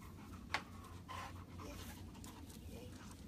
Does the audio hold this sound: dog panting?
yes